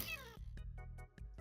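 A pet cat in Minecraft gives one short meow up close, then a few soft, evenly spaced clicks follow.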